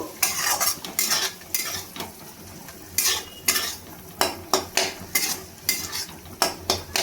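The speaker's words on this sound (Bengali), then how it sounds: "এবার আমি গরম মশলা আর গোলমরিচটা দিয়ে আমি ভালোভাবে নাড়িয়ে নেব" A spoon scrapes and stirs garam masala and black pepper into fried rice in a pan, making repeated sharp metallic clinks in an irregular rhythm over a faint sizzle, with no talking.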